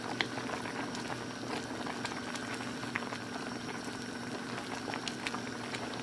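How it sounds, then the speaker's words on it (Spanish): Water bubbling at a steady boil in a pot, soft continuous gurgling with small pops, fairly quiet and close, no talking. "aquí ya estoy hirviendo aproximadamente unos 8 minutos"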